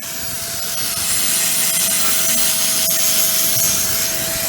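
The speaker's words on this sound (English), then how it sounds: "So we're using grinder, cutting wheel, sawzall, chisel, removing these." Power tools (grinder with cutting wheel, sawzall) cut away a section of a steel broadcast tower, a loud steady grinding and rasping whine held throughout with a constant high tone, no talk.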